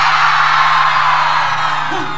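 Loud crowd at a live banda music concert, yelling and whooping together in a sustained roar that eases slightly toward the end.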